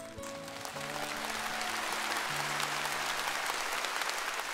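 Sustained applause from a studio audience at a televised singing competition, steady and full throughout, with a few low sustained musical notes fading under the clapping at the start.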